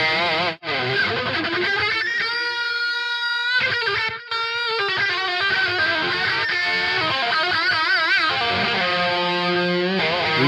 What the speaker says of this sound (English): You can add the chorus here.